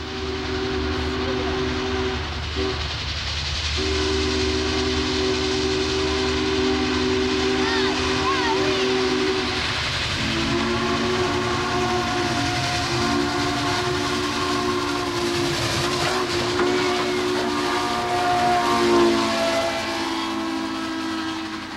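Steam locomotive whistle blasts repeat over the rumble of a passing train. There are several sustained blasts with short gaps between them. Faint talk is mixed in under the rail noise.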